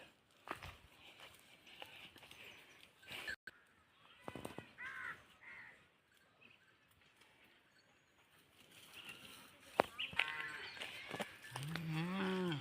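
A calf moos several times in low, drawn-out calls, the loudest and longest near the end, with faint bird caws and rustling in the background.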